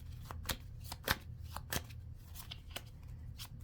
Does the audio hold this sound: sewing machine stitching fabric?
no